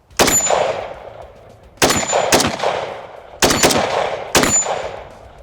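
A Beretta AR-70 assault rifle fires four loud, sharp shots outdoors, evenly spaced about a second and a half apart, each followed by a ringing metallic ping and a fading echo.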